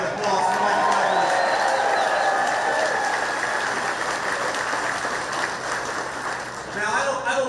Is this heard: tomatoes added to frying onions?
no